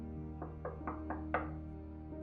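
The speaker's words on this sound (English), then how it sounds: "I followed, knocking on her door." Five evenly spaced knocks on a door, close and sharp, over a low steady hum with no talk.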